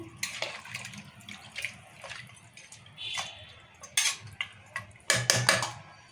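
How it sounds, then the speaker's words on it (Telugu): Metal spoon scraping and clinking against a pot of goat head curry in irregular strokes, with a few louder clanks near the end and faint wet sloshing underneath. "మళ్ళీ ఒకసారి ఇట్లా కలుపుకుందాము"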